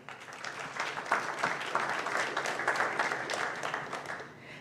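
Audience at a school district board meeting applauding elementary school principals: a continuous, dense round of clapping at moderate volume, steady throughout.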